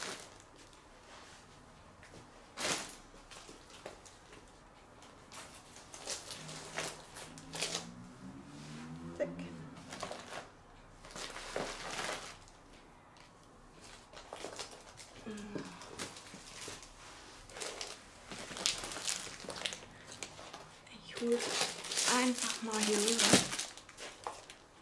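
A stack of craft paper is shuffled and handled in a quiet room, with soft rustling, crinkling and papery sweeps between stretches of a person talking nearby.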